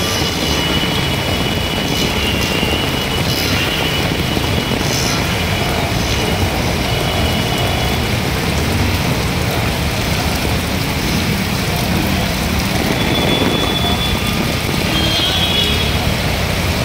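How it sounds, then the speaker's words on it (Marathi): A steady, dense roar of heavy rain in Kalyan, Maharashtra fills the whole stretch, loud and unbroken from start to finish. "मोठ्या प्रमाणामध्ये पाऊस आहे"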